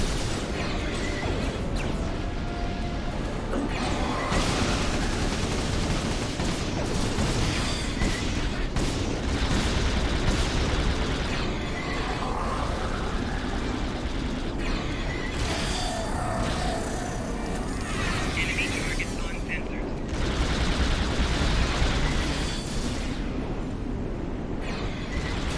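Space battle in Star Trek Online with a Federation ship engaging Jem'hadar: dense, continuous weapon fire and explosions roll on without pause, loud and crowded, with bursts layered over a constant rumble.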